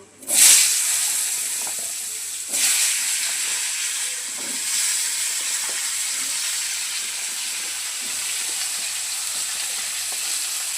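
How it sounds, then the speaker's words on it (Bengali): Vegetables hitting oil already used for frying rohu fish, a loud burst of sizzle and hiss as they go in, then a steady crackling fry with occasional stirring scrapes, no talking. "মাছ ভাজা তেলে সবজিগুলো ভেজে নেব"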